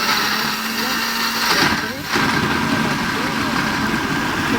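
A blender purées boiled tomatoes with a little salt into paste, a loud, continuous motor whirr that dips briefly midway before settling back to a steady drone.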